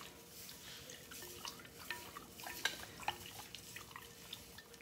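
A spiritual bath mixture in a basin is stirred clockwise, giving faint, soft watery swishes and scattered light drips and clinks, quiet and close with no talking.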